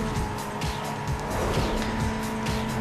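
A car drifts in Need for Speed Underground 2, its engine roaring loud and close while the tires squeal in sustained skids. Game music plays underneath.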